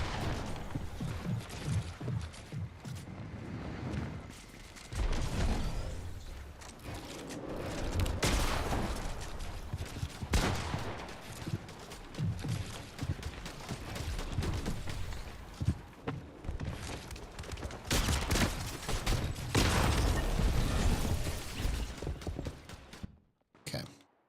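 Rapid bursts of video game gunfire crackle almost continuously, dense and loud, with brief gaps, ending abruptly in a short silence near the close.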